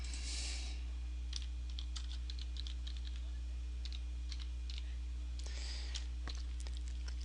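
Computer keyboard keys typed in short bursts of light, close clicks while a file name is entered for software export, with a steady low hum from the computer underneath and no talking.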